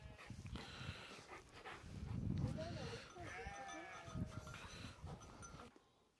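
A lamb bleats repeatedly on a sheep farm, calling for its mother, the wavering cries fairly close and mixed with people talking nearby.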